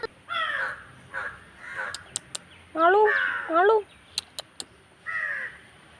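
Crows caw outdoors in several harsh bursts, some close and loud, others fainter, with sharp clicks between calls and a few words of talk.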